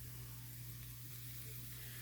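Onions frying in a small amount of oil in a pan, giving a quiet, steady sizzle with a faint hum underneath, soft and continuous throughout.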